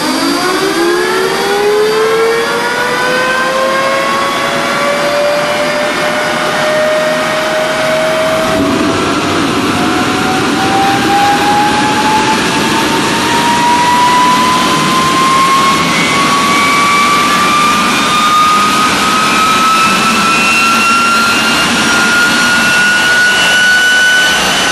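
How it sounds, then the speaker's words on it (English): Homebuilt backyard jet engine spooling up from a start and settling into a loud, steady roar, a rising whine climbing in pitch over a dense broadband rush, close and continuous with no voices. "On the third attempt, with the correct starting sequence, the engine started."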